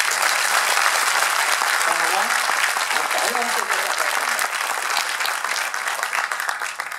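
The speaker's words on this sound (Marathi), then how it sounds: "त्याच्यासाठी माझ्या बाळ चित्रकार वसंत सरवटे याच्यासाठी तुम्ही टाळ्या द्या" An audience applauds painter Vasant Sarwate with dense, sustained clapping that fills the whole stretch at a steady, loud level. Some murmuring can be heard through it.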